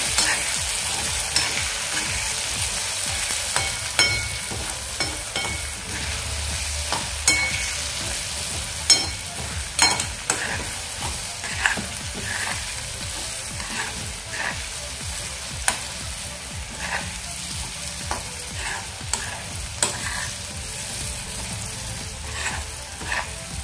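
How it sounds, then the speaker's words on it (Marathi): Onion-garlic masala and garam masala being stirred in a pan for vangyache bharit, a continuous frying sizzle broken by frequent spatula taps and scrapes; no voices. "आता हे व्यवस्थित आपण मिसळून घेऊया."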